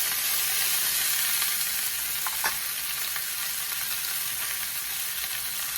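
Steady, dense sizzle of crispy-skin chicken frying in a pan under a bacon press, continuous hiss with a faint scrape midway and no talking.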